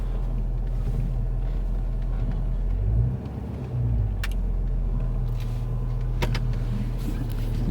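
A GMC 1.5 ton dually truck drives slowly, giving a steady low engine rumble with a brief lull partway through and a few faint clicks and knocks on top.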